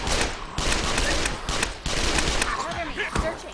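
Rapid bursts of gunfire from The Last Stand: Dead Zone video game, dense and sustained through the whole stretch with several sharper cracks standing out, played under a steady game background.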